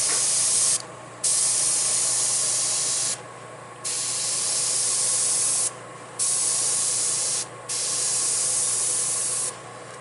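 A Timbertech airbrush sprays in several bursts of about two seconds each, a close, loud, steady hiss cutting off briefly between passes over a continuous compressor hum.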